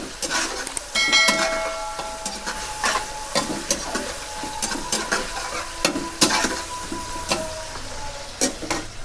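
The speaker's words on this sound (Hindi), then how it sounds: "अब प्याज कढ़ाई में डाल देंगे।" Onions fry in a kadai for chicken matar pulao, a continuous close sizzle broken by frequent sharp clinks and scrapes of a spoon stirring against the metal pan.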